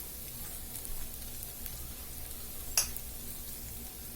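Cooked rice is tipped into a hot pan for Gobi Manchurian and sizzles quietly and steadily, with one brief sharp scrape partway through.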